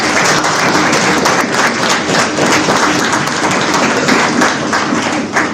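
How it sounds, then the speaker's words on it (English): A conference audience gives a loud, sustained round of applause after a panel session, dense and even clapping from a large crowd that fills the hall continuously with no talk over it. "Let's express our appreciation for our moderator and our panelists with a huge round of applause"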